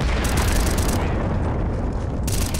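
A C4 bomb explodes in a Counter-Strike match on the Dust2 map, a loud, dense, sustained roar with heavy low rumble filling the whole moment and no clear talking.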